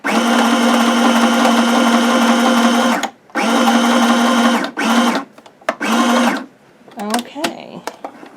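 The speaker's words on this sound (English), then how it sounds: "I'm going to just start sewing like across and around each little patch in different stitches. So this first one is going to be a large zigzag." A sewing machine stitches a large zigzag in blue thread across fabric patches, running in several loud bursts separated by short pauses, followed by faint handling clicks.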